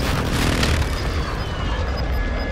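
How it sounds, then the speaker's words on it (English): Airstrike explosions in the Warzone 2 video game, a dense rumbling roar of blasts and debris, loud and continuous throughout with no clear gaps, close and heavy. "Hostile airstrike incoming"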